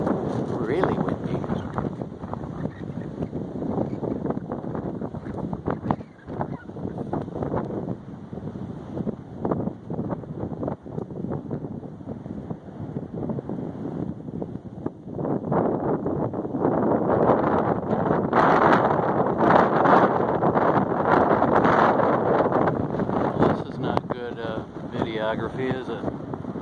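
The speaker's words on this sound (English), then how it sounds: "Oh, really windy." Strong wind roars and gusts against the microphone in Leilani Estates during the 2018 Kilauea eruption, swelling louder in the second half, with occasional rustling and bumps.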